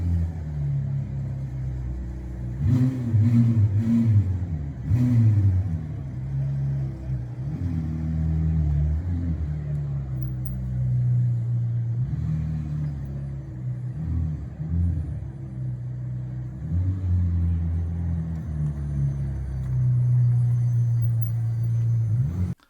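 McLaren 765LT engine revving with a loud, continuous low rumble, rising and falling through several throttle blips over about twenty seconds, close by and with no talking.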